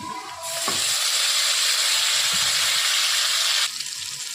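Chopped green chilli, onion and tomato hitting hot oil in a pan, a sudden loud sizzle that swells and holds for about three seconds before dropping back, close and alone.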